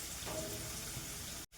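Potatoes fry with turmeric in a pan, giving a steady, fairly soft sizzle and crackle that carries on evenly without any talk, then cuts off abruptly just before the end.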